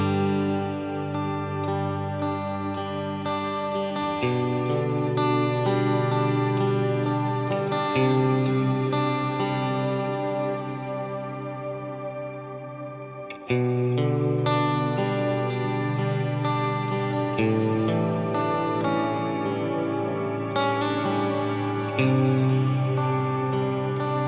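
Cornerstone NUCLEO guitar pedal running a shimmer effect combination, sustained chords swelling with bright octave-up shimmer and long reverb tails, loud and continuous throughout with a re-struck chord midway and no talk.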